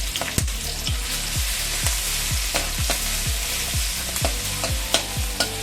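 Chopped green chillies and ginger-garlic paste sizzle steadily in hot oil, with a dense, continuous frying hiss broken by repeated close scrapes and knocks of a spoon stirring the pan; no voices.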